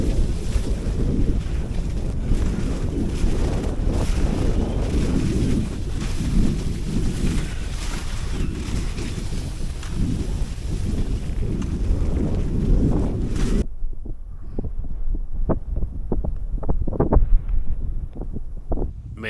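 Strong wind roars across open snowy wilderness in Käsivarsi during a January ski trek, a loud, continuous buffeting against the microphone that cuts out abruptly, leaving quieter crunching and tapping sounds.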